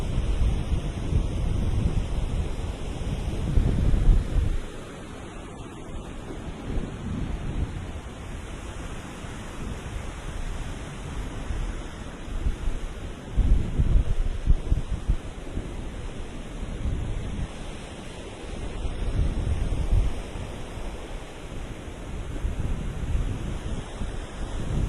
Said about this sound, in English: So now the wind is coming out of the southwest at about 7 to 10.